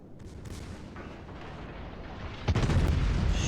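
Warship naval guns firing in the World of Warships game, a rumbling, distant-sounding barrage that swells into a heavy close boom with a sustained roar near the end, no voices.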